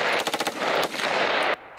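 Gunfire at night in a war zone in eastern Ukraine, a rapid burst of machine-gun shots followed by further loud, rattling fire that stops abruptly at the end.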